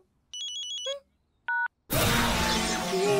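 Short beeping telephone dialing tones sound in quick succession at a family dinner table, followed by a single brief tone and then a burst of loud broadband noise.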